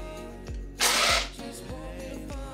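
A countertop blender mixing early in the morning kicks in as a brief, loud, harsh whirring burst of about half a second, set among softer, regular mechanical clicks and thumps.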